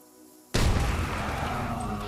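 A plasma grenade detonates in Fallout 76 after a brief quiet stretch. A sudden loud blast lands near the half-second mark, then a dense, sustained roar fills the rest of the clip with no voice over it.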